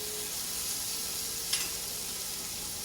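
Mirepoix of garlic, onions, celery and carrots with a bay leaf sizzles steadily and softly in a pan, a faint continuous hiss with one brief louder crackle midway.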